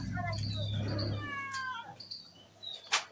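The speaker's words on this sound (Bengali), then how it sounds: "দেখো বিড়াল দেখে মোহনা কথা বলছে বিড়ালের সঙ্গে" A cat meows several times, the calls high and wavering, while people speak nearby and a low steady hum runs underneath; a sharp click sounds near the end.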